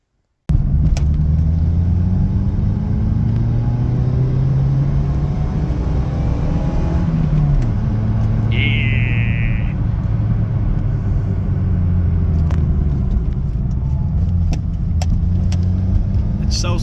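A Fiat Seicento engine drones loudly and steadily while driving, its pitch dropping midway as it shifts up a gear, with road rumble underneath and a short high whine partway through.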